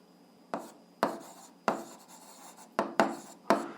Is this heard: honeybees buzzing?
no